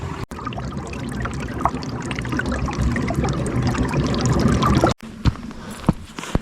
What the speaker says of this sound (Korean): 그 안에 물소리를 한번 들어볼까요?